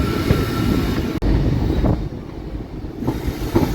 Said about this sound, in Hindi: और एल्को लोकोमोटिव खड़ा है भाई यहाँ पे।